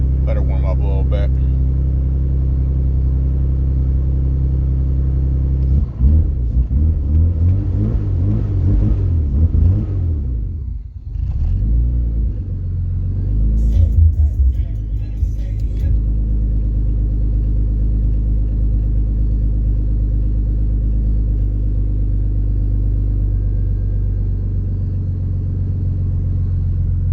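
A BMW M50 engine idling while warming up from a cold start, a steady low rumble that holds throughout, with a brief revving swell partway through.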